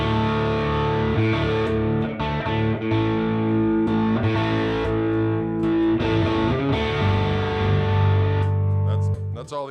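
Overdriven electric guitar chords ring out through an Orange amp with output tube saturation, giving a thick, saturated tone, strummed and sustained over several seconds.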